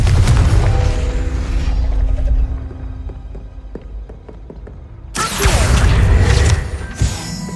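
Confringo fire spell blasting in the video game Hogwarts Legacy: a loud, booming explosive burst with crashing debris, a quieter stretch of mechanical clicks, then a second heavy fiery blast that rumbles on near and full.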